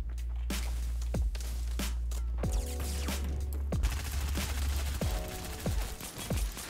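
Rapid gunfire bursts from a Fortnite match, sharp repeated shots cracking over a steady game soundscape of footsteps and background noise, fairly loud and continuous throughout.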